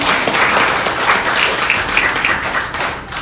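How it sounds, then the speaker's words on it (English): Audience members at a caregivers organization event clap together in a lively round of applause, dense and close, with sharper individual claps standing out across the few seconds. "So I want to start this morning by giving all of you a round of applause."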